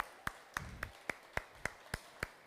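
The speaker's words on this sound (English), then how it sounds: "Give yourself an applause for coming down to Third Degree Glass Factory" Sparse, evenly spaced claps at Third Degree Glass Factory, about eight sharp hits in a slow steady rhythm, faint and fairly close, with no crowd roar behind them.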